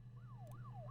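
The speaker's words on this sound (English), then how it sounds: "there's the sirens again" A wailing siren rises and falls in long sweeping cycles over a steady low rumble, sounding some distance away.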